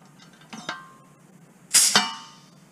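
A dimpling machine presses RV-14A vertical stabilizer parts, giving two pairs of sharp metallic clanks with a ringing tail, the second pair louder, in a quiet workshop.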